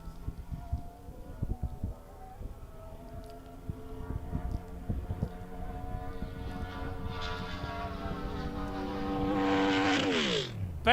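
A rat rod tater truck races at an ECTA half-mile event, its engine note climbing steadily in pitch as it accelerates hard, then cutting off abruptly near the end, heard from a distance.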